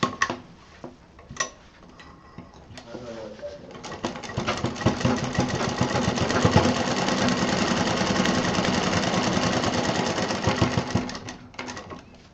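A sewing machine stitches a zipper onto fabric, starting with a few short bursts and clicks, then running steadily with a rapid mechanical whir that eases off near the end.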